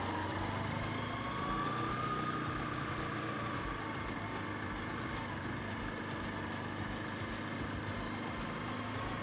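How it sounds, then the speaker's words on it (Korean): Motorcycle engine held at a smooth, steady throttle while practicing basic turns, a continuous even drone running throughout with no talking. "스로틀 부드럽게 유지하면서"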